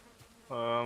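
Bees buzzing in the survival video game Valheim, a sudden loud, harmonic drone that kicks in partway through and holds steady and close to the end.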